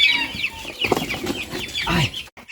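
Colombian Brahma chickens clucking close by, with a run of short scratchy clucks and squawks in quick irregular succession, loud and alone.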